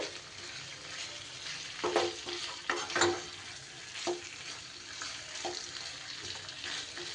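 Chicken mixed with masala frying on a low gas flame, a gentle ongoing sizzle with repeated spatula scrapes and knocks against the pan, clustered in the middle, close and with no voices.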